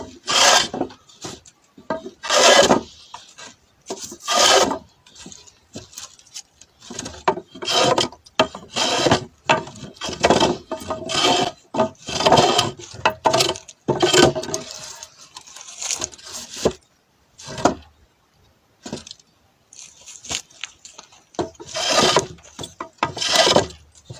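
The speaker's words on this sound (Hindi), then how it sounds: "ये इसकी थोड़ी बहुत कढ़ाई होनी है, जो मैं ये छोटा सा रंदा है इसके साथ में कर रहा हूँ" Small hand plane shaping pludri wood in bursts of rasping strokes, close and fairly loud, with short pauses between passes and no talking.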